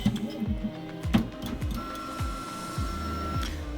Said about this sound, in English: So now the printer is going to get ready. It's going to go through a warm-up cycle and warm up the print heads and warm up the bed.